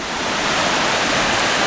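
A steady, loud roar of falling water from a waterfall at Center Hill Lake, heard close and continuous with a broad hiss and no talk.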